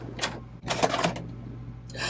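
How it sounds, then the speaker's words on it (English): Mechanical clicks and whirring bursts from a VCR ejecting a Star Trek videotape, several short clunks spaced over a couple of seconds, close by and moderately loud over a steady low hum. "let's eject this tape and see what it is"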